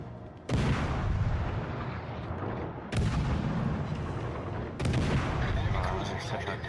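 Heavy naval gunfire from the cruiser St. Louis in the World of Warships: Legends game: three loud, booming broadside salvos about two seconds apart, each followed by a long rumbling roar, with speech faintly under the barrage.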